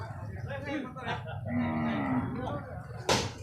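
Water buffalo and cattle lowing at a livestock market in San Sai, Chiang Mai, Thailand, with a long drawn-out moo standing out over crowd murmur and background talk, followed by a short sharp slap near the end.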